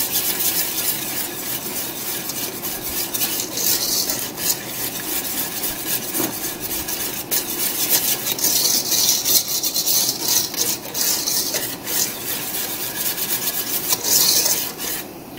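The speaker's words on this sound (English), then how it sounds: "I just want to whisk this all together, and then I'll switch out for a spatula," Rubber spatula stirring chocolate mint dessert sauce in a pot, heard as a continuous close rasping, rubbing scrape with steady rhythmic strokes.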